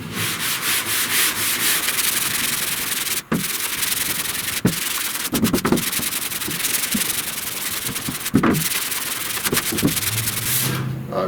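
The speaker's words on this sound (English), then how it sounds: "we almost got this sanded down" Hand sanding of guide coat over epoxy on the rear body panel of a '69 Chevrolet C10 gives a continuous close rasping rub in long strokes, with a few sharp knocks and pauses.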